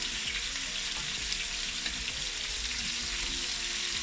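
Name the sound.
onions frying and being stirred in a pan for rougail saucisse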